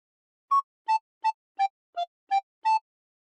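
A recorder plays a phrase of the Squid Game theme as seven clear, separate blown notes at an even pace, alone and close.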